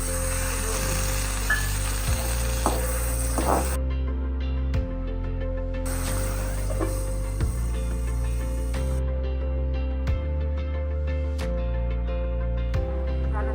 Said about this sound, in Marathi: त्यानंतर बारीक चिरलेला कांदा जरा छान भाजून घ्यायचा।